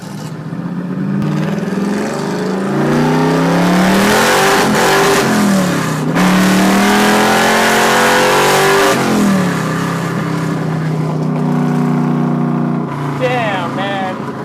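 A 1968 Plymouth Road Runner V8 revs and accelerates hard in loud rising pulls, dropping briefly between gear changes, then roaring up again close by. Excited voices whoop and talk over the engine.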